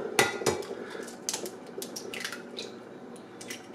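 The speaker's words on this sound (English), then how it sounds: "we're going to crack the eggs" Eggs are cracked against a bowl for crepe batter in a home kitchen, giving several close, sharp taps and clinks with soft squishy shell breaks in between, quiet and without talk.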